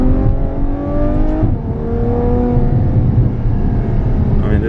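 A Ferrari F12 Berlinetta V12 revs hard and close, rising harmonic engine wails that climb, dip and climb again over a deep rumble, loud and continuous for several seconds.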